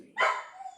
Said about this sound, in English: That's my dog. He wants to go outside.